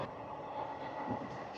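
A DEMU diesel passenger train on the Renigunta to Kadapa line rumbles steadily at close range, a dense, even drone of engine and wheels with no voices.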